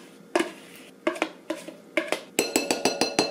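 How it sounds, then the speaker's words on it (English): Utensil scraping and clinking against the sides of a mixing bowl of cake batter and egg mixture, a series of sharp close knocks, sparse at first and then quicker and more regular, with no talking. "Go scrape the sides and get everything."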